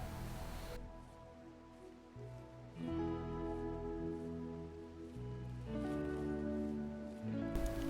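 A night rainstorm patters steadily in the background, soft and continuous, under a low tonal hum that shifts in pitch across the scene.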